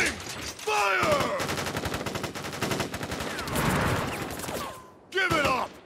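Soldiers loose a volley of rapid gunfire in Crisis Core: Final Fantasy VII, a dense rattling burst of shots lasting several seconds that is broken by shouted voices and then a final short flurry.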